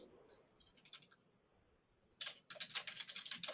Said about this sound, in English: I was trying to catch up with typing and I missed it